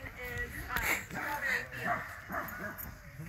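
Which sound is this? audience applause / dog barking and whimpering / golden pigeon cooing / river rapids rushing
dog barking and whimpering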